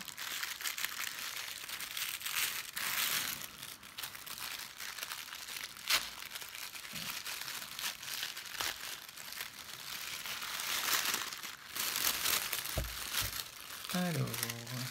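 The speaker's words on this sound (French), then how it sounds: "Ça me fait mal au cœur de déchirer un aussi bel emballage." Decorative gift wrapping paper around an oracle card deck is torn and crumpled in bursts of crinkling and ripping, close and fairly loud, with a person talking in between.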